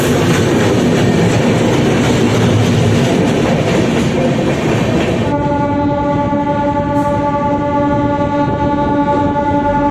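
The Delhi–Howrah Town Express rolls past right beside another moving train near Chhatna station. A loud, continuous rumble and rattle is joined halfway through by a long, steady horn blast that carries to the end.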